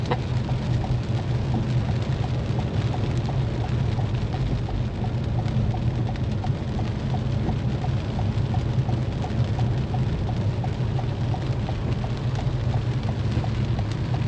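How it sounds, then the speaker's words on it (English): Steady rain falls at the Road America race track, a continuous dense hiss with a faint rhythmic ticking running underneath, even and unbroken throughout. "And yeah, it's raining."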